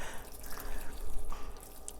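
Hydrogen peroxide mixture poured onto houseplant soil, a soft continuous trickle and drip of liquid close by, steady for two seconds with no talking.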